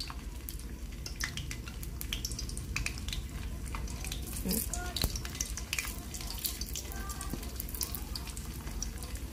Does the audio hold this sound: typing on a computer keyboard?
no